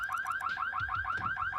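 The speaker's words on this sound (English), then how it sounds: "God, the alarm." A burglar alarm from The Sims 2 blares a fast, repeating warbling siren, its rising-falling pulses cycling steadily at close, loud level with no talk over it.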